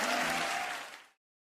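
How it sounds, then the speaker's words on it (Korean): A congregation at a children's department church worship service gives a loud burst of applause that cuts off abruptly after about a second. "큰 박수로 주님께 영광 돌리겠습니다."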